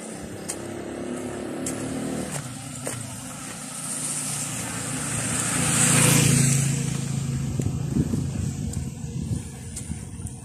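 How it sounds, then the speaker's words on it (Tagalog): A motorized tricycle drives past on a street after heavy rain, its engine rising from a distant hum to a louder, nearby pass around the middle before fading, amid other street traffic. "Yan po yung mga tricycle na sinasakyan ko."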